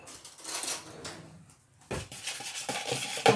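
Shortcrust pastry dough mixed with sunflower oil is stirred in a bowl with a utensil, giving close scraping and light clinking strokes against the sides. A brief quiet pause splits two bursts of stirring, with no voices.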